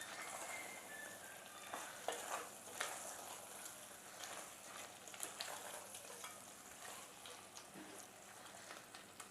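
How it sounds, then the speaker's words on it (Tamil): Chicken dry roast (chicken chukka) is stirred in a pan, with quiet sizzling and frying under soft scraping and clinking of the spoon, no talk. "இப்போ திறந்து கலரி விட்டுக்கலாம்."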